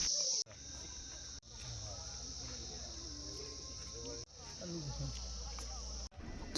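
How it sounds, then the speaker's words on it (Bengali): Crickets chirp in the hills, a dense continuous high-pitched trill that holds steady throughout with brief dropouts, accompanied by faint bird calls and low background rumble. "এই ঝিঝি পোকার ডাকটাই তোমাকে ওয়েলকাম করবে পাহাড়ে আসার জন্য।"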